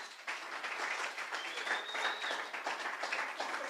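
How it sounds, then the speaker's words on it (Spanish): A church congregation breaks into applause, a steady, even wash of many hands clapping at moderate loudness that continues throughout without speech. "Démosle un aplauso al Señor por su palabra"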